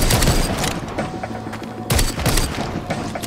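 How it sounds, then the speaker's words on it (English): Grenade blast in the VR zombie shooter Arizona Sunshine, a loud booming burst with rattling gunfire-like crackle, followed by a second explosion about two seconds later, with no talk over it. "Another grenade!"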